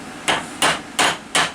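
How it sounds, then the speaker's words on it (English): A massive hammer strikes brass rods four times at an even pace, each blow a loud, sharp metallic crack that rings briefly before the next, with no voices. "give them a pretty good solid hit. I mean, this is a massive hammer"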